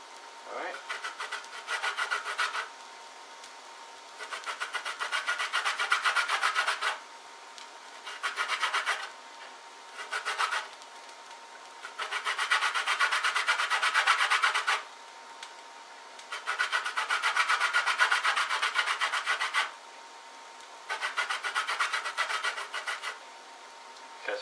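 A lemon being grated around its surface, with repeated bursts of close, raspy rubbing strokes separated by short quiet pauses.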